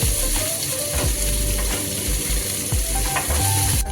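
Peas tipped into mixed vegetables frying in a pan, a loud close sizzle with repeated scraping and stirring strokes against the metal, no talking.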